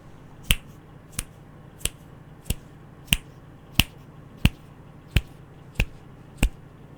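Ten crisp finger snaps at a steady, even pace, each sharp and close, picked up by a Fifine K690 microphone set to omnidirectional pickup in a quiet room with faint background hiss.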